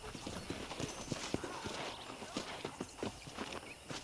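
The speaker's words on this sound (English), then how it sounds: "I picked out a fine horse for you." Horse hooves clip-clop at a walking pace on a ranch in Red Dead Redemption, a steady close patter of hoof strikes with faint background ambience.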